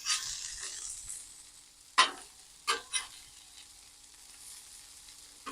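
Smashed burger patties sizzle on a hot griddle just after flipping for a breakfast sandwich. The soft hiss fades, broken by a few sharp metallic spatula clicks and taps.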